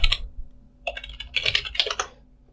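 Close computer keyboard typing in a few uneven bursts of clicking keystrokes separated by short pauses, moderately loud, with no talking.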